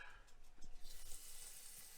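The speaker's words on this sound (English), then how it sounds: "let's see if we can fry this" Quiet, steady sizzle and crackle of breaded squid frying in hot oil, a close, low hiss with small popping bursts, brief and without voices.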